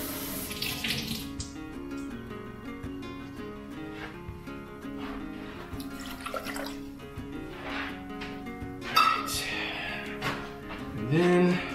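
Water runs steadily from a kitchen tap into a cup while making hot dog chili, a continuous rushing flow lasting the whole stretch with small clinks and splashes near the end, close and moderately loud.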